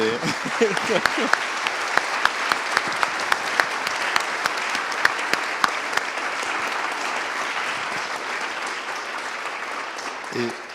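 Audience applause at a conference on building with solid stone, sustained even clapping from a large crowd lasting about ten seconds, with a few sharper individual claps standing out and a brief voice near the end.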